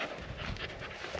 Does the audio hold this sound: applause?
no